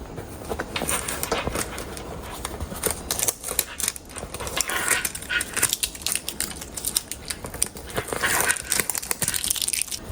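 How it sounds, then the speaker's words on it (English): Tape peeled off a freshly heat-pressed hat, giving a steady, busy run of crinkly tearing and crackling texture close by, with no talking. "Go ahead, remove the tape."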